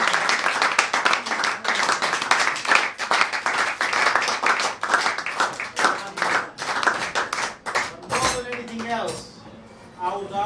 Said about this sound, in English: I'd like to give a big hand to this lad here for doing all everything possible